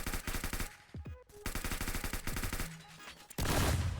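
Rapid automatic gunfire in the mobile FPS game Phantom Blaze Mobile, loud bursts of rattling shots broken by brief pauses and other game effects, close and dense, with no talk.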